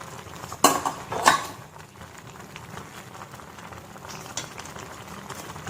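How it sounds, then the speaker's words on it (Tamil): Metal ladle stirring vegetables and masala in a pan for veg egg noodles, with two sharp clanks against the pan near the start and softer scraping and frying sizzle after, no talk. "இப்போ நம்ம கரண்டி வச்சு கலரலாம் ஃப்ரெண்ட்ஸ்"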